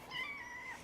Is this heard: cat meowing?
yes